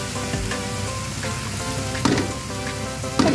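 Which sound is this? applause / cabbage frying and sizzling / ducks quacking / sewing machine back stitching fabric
cabbage frying and sizzling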